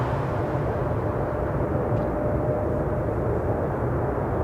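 Jet airliner departing at Toronto Pearson Airport, a steady broad engine roar heard from a distance, constant and unbroken throughout with no voices.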